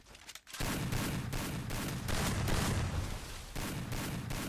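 Rapid sustained gunfire in the Free Fire video game, a dense loud burst of shots continuing without pause after a brief quiet start.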